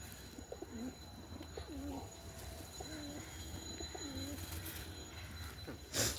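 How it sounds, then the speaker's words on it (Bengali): A pigeon gives soft repeated cooing calls in a rhythmic series over a low background hum, ending with a brief louder knock. "এটা দ্বিতীয় পায়রা"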